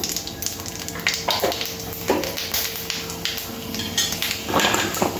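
Panch phoron whole spices crackle and sizzle in hot oil for a rui fish curry, a steady frying hiss broken by soft pan and utensil clinks, close and moderately loud with no talking.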